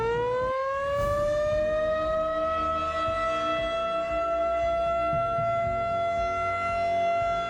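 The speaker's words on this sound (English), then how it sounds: "you may be outside and hear the tornado siren" A tornado warning siren wails in a single long, steady rising tone, loud and sustained from start to finish with no other sounds.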